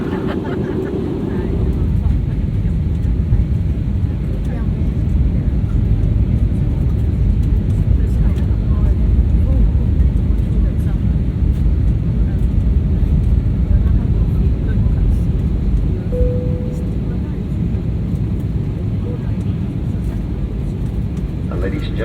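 Steady, loud broadband engine and air roar fills the cabin of a Jetstar Asia Airbus A320-200ceo descending toward Singapore, a continuous drone throughout with a faint brief tone near the end.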